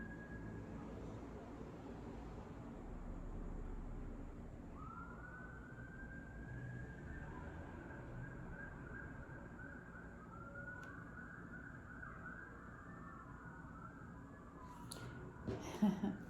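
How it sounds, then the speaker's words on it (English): Distant sirens wail and rise and fall outside, faint and muffled, wavering in pitch over a low hum, with a brief clatter at the end. "I don't know if you can hear the sirens outside."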